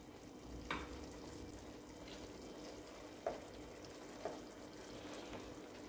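Chicken curry cooking in a pan on a low flame, giving a faint, soft sizzle with a few brief clinks of stirring.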